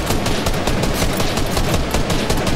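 Video game gunfire in an arena match, a loud dense continuous barrage of rapid shots and blasts filling the whole stretch, with no talk over it.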